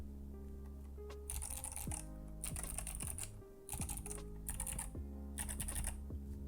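Clicky mechanical switches on an Epomaker TH80 keyboard being typed on in close, quick bursts, with brief pauses between runs and no speech.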